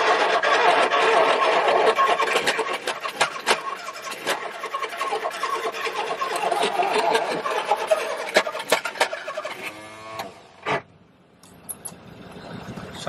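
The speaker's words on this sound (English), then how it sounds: "What's that awful cracking sound that it does when it's about to fire?" A 1969 Ford Capri barn-find engine cranks and tries to fire: a loud, churning rattle with sharp crackling bursts that breaks off near the end, followed by a few isolated pops and a sputter.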